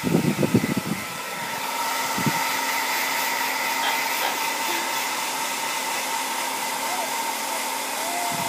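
A hair dryer blower runs steadily and loudly at close range, its continuous whooshing hum broken at the start by a small child's crying.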